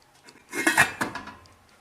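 A metal pot lid clanks into place on a pot of cauliflower on the stove with a couple of quick, ringing knocks, close by and alone.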